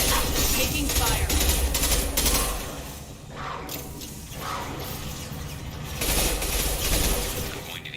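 Sustained gunfire during a Mass Effect battle, dense crackling bursts with shattering impacts, loud throughout with a brief dip midway before the firing swells again; faint voices mixed in.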